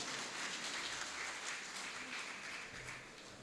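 A faint, steady wash of audience applause at a memorial and literary festival, greeting Narsim as he comes up to give his acceptance speech; the clapping blurs into a soft, even texture throughout.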